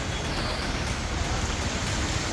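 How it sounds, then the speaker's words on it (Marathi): Heavy monsoon rain pours down in Mumbai during flooding, a steady, dense broadband hiss at constant loudness with no pauses and no voices. "सकाळी पावसाचा जोर वाढला आणि सगळीकडे पाणीच पाणी झालं."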